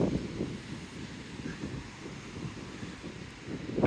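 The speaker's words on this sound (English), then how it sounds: "all you'll be able to hear is wind" Steady wind buffeting a microphone at a seafront in Fuengirola, Spain, in January, a continuous low roar with gusty swells and no speech.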